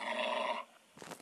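A dog growls in the video game Mimpi Dreams, a rough, loud rumble lasting about half a second, followed by a pause and then a few faint scuffling sounds.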